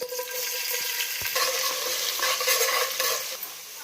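Onions, green chillies and ginger paste frying in a pan with whole spices for bagara rice, a steady close sizzle with stirring scrapes throughout.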